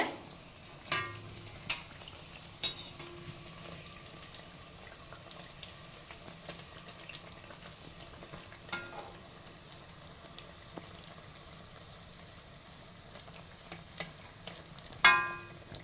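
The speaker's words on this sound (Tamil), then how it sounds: "பக்குவமாக பொரிச்சு எடுக்கணும்" Bread pieces fry in oil in a pan for bread halwa, a low steady sizzle broken by scattered stirring scrapes and clicks, with a louder clatter near the end.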